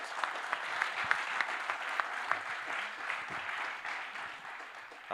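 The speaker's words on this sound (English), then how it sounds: "Let us give him another great hand clap" Audience at a nursing and midwifery quiz opening at Bishop Stuart University clapping steadily, a dense even patter of many hands at moderate distance, easing slightly toward the end.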